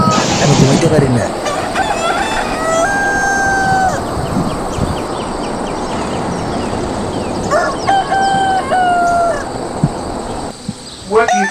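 A rooster crows twice in the morning, each crow a long, bright, rising and falling call, separated by a stretch of rustling background noise with a few soft clucks near the end.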